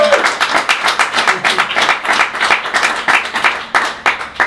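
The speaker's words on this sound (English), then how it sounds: "Round of applause, please." Dense audience applause fills a hall at the HWBOT World Series 2015 Asia award ceremony, with steady overlapping claps at loud, close level throughout and no talk over it.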